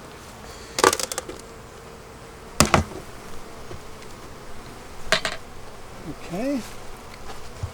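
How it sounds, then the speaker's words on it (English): Honey bees buzz in an open beehive during a winter inspection, a steady swarm drone with a few louder close passes, sharp handling knocks, and a brief spoken word. "Okay, this is a busy hive."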